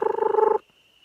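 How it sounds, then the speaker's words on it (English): A gray tree frog calls in a short, loud, fast pulsing trill lasting about half a second, close by, then stops, leaving a faint steady high tone. "Winter didn't see the gray tree frog hiding up in the branches above the flower."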